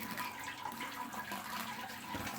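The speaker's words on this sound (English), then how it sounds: "just try to spread what you're pouring over the top" Sparge water being poured steadily over the grain mash in a Grainfather system while brewing barley wine, a soft continuous trickle and splash, close and quiet with no talk.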